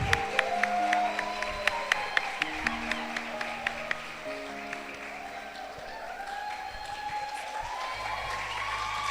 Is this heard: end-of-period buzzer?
no